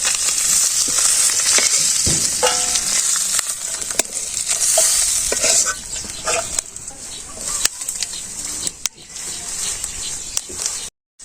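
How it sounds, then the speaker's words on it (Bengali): Leafy greens being fried and stirred in a pan in a Bangladeshi village kitchen, a bright steady sizzle with intermittent scraping and clatter of the spatula, faint outdoor sounds behind. "শাকের ভাজি করলাম"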